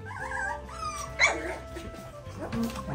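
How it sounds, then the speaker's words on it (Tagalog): A Belgian Malinois puppy lets out a few close, high yipping barks mixed with whiny growls, alone with no talking. "Tahol na tahol"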